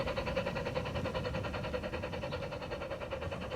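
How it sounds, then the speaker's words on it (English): Battery-powered, radio-controlled garden railroad model trains run past on outdoor track with a steady, faint rhythmic clicking and rumble of wheels over rail joints, continuing without pause for a few seconds. "Trains passing Red River Resort here."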